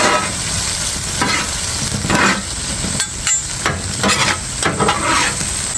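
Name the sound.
stir-frying beef with peppers and basil for pad kra pao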